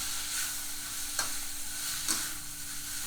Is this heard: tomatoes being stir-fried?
yes